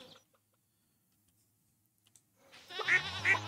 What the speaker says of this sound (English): we've got so many goats